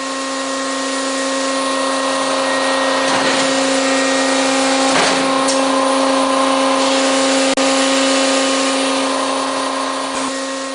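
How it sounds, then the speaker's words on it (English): A McLean scissor bolter mining machine running, a loud, steady mechanical whine with strong sustained tonal hum, occasional brief surges and clunks, close and continuous with no talking. "the McLean scissor bolter has evolved into the safest, most productive, and versatile machine on the market"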